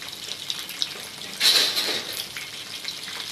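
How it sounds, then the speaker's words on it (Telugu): Homemade milk sweets fry in hot oil until brown, giving a soft steady sizzle with one brief louder crackling flare partway through. "ఇవి బ్రౌన్ కలర్ వచ్చేంత వరకు కూడా వేపుకోవాలి బాగా."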